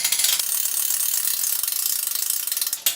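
A ratcheting crank draws back a bow while a drop-away arrow rest is installed, giving a fast, even run of loud mechanical clicks that stops for a moment near the end.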